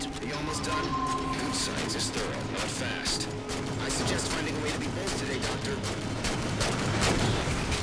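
Rapid gunfire from a Halo 4 Spartan Ops multiplayer battle, with dense overlapping shots and explosive crashes filling the whole stretch at steady loudness.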